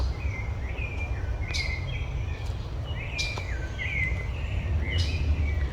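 Birds chirp and sing in short, bright, repeated phrases over a steady low outdoor rumble, several calls scattered across the stretch at moderate distance.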